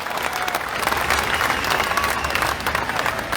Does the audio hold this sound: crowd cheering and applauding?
yes